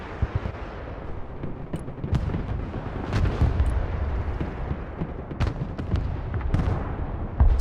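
Artillery fire in the combat game Broken Arrow booms in a series of heavy blasts and rumbling impacts, some sharp and close, layered over a constant low battlefield roar with no talking.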